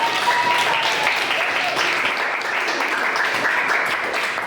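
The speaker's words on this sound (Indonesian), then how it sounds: "kita tepuk tangan dulu buat kelompok" Students in a classroom clap together for a presenting group, a steady continuous patter of many hands held at an even level for several seconds, with faint voices mixed underneath.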